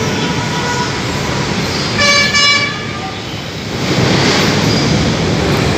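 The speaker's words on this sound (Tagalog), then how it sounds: "Nandito po tayo ngayon sa LRT station ng Blumentritt." An LRT train at Blumentritt station in Manila passes amid loud, steady rumble and wash, with a short two-part horn toot sounding midway over the roar.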